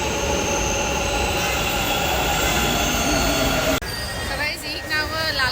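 A metro train at Lalbagh metro station in Bengaluru rumbles loudly and steadily with squealing wheels, then the sound abruptly shifts to a quieter interior hum with a faint tonal whine, close and continuous.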